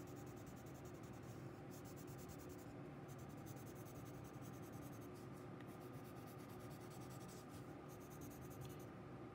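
A pencil or marker colors in magma on a paper geology diagram, a continuous close scratchy rubbing in quick back-and-forth strokes with short pauses, quiet and without talk.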